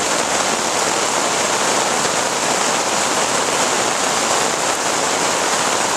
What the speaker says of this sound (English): Listen to this rain.